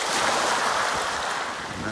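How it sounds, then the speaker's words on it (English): Ocean waves lap at the shore right in front of the camera, giving a steady close wash of water with a soft hiss and light wind. "We've got these waves that are just lapping away at the front of the camera here."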